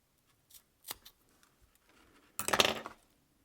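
Scissors trimming macramé cords flush on a micro-macramé zigzag cuff bracelet, a few faint close snips and light rustles followed by one louder, slightly longer crisp cutting burst.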